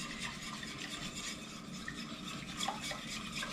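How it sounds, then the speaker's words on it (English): A whisk stirs liquid in a pot for Southern-style chicken and dumplings, a steady close scraping swish with faint clinks against the metal, continuous and alone without talk. "let me get my whisk here. Let me stir this around."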